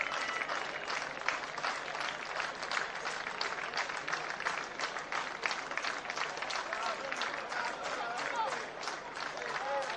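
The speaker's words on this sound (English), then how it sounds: "As the crowd is also clapping" Baseball crowd clapping steadily throughout a tense late-inning moment of a Cuba versus Curaçao game, dense sustained applause with a commentator talking over it.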